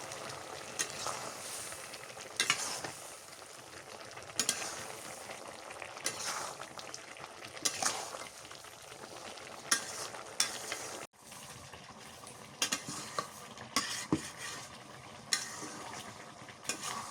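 Beef curry with bottle gourd being stir-fried in a pan, with spoon scrapes and clacks recurring irregularly over a steady low sizzle throughout.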